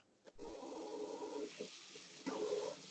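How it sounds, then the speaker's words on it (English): Warm water pours steadily into a bowl of challah dough, a gushing, splashing stream that pauses briefly and then resumes, fairly close and fairly quiet. "And now I'm adding 3 cups of warm water."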